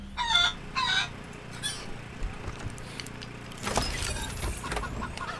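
A chicken in the video game Wasteland 3 clucks and crows in a few loud bursts near the start, followed by quieter game ambience and scattered noises.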